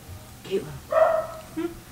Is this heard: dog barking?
yes